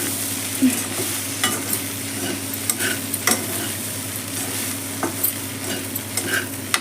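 Coriander powder, salt, turmeric and other spices being stirred into frying okra in a pan, with continuous sizzling and repeated light scraping strokes of a spoon throughout.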